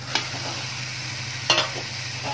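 Boiled cauliflower and potatoes are stir-fried with tomato in a pan, with a low steady sizzle broken by two quick scraping clicks of a spatula.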